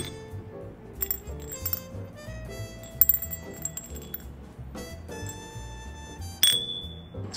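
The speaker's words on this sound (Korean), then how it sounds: "요 잔이 보시면 안에 구슬이 들어있어가지고 이렇게 흔들거나 잔을 짜낼 때 소리가 너무 이쁘게 나요" A Gwangjuyo ceramic sound cup with a bead inside, shaken so the bead clinks and rings against the porcelain in a series of bright, irregular chimes over a soft background hum, with a sharper clink near the end.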